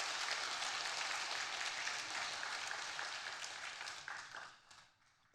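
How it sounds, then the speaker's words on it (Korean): A church congregation claps for the volunteers who served the lunch meal in the kitchen: dense, steady, moderately loud applause from many hands that thins and fades out over the last second. "오늘 주방 중식 봉사로 수고하신 사요전들을 위해서 박수 한번 하시겠습니다"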